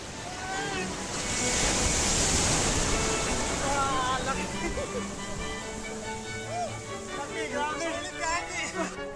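Big ocean waves roll in and crash at a beach during a morning swim, a broad steady roar with wind rumble on the microphone while people shout and talk over it.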